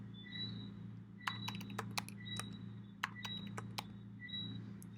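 Someone types a password on a computer keyboard. A quick, uneven run of light key clicks sounds nearby over a steady background hum.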